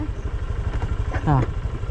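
A motorcycle engine chugs nearby in a rapid, even pulsing beat as voices talk over it.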